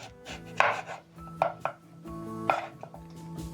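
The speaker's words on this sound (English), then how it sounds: "Then next you're going to cut the potato lengthwise." A knife thuds through a potato onto a cutting board, a few uneven lengthwise cuts close by, with no talking.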